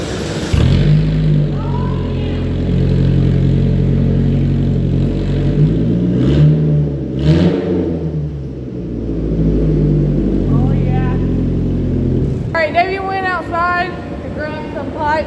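A loud race car engine with its muffler removed idles roughly, then revs up and down several times with a raw, throaty roar; brief voices come in near the end.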